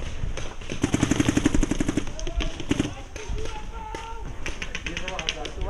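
Rapid bursts of gunfire in an Area 51 airsoft-style game, a quick string of sharp shots followed by scattered pops, with people talking over them throughout.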